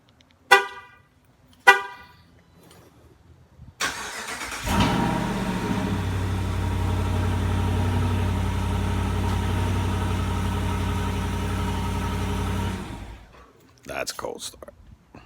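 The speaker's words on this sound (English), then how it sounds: "That's a cold start." Cold start of a 2018 Chrysler 300C S V6: after two short chirps and a pause, the engine cranks and catches at about four seconds, then holds a loud steady idle for roughly eight seconds before cutting off, with a few clicks and thumps at the end.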